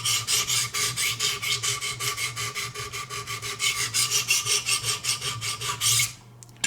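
A Benchmade 725 Kodiak Skinner knife is drawn across a low-grit sharpening stone in quick, even strokes, a rhythmic rasping scrape repeating close and alone for several seconds before it stops.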